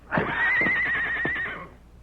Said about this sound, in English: Whose horse was that I just heard?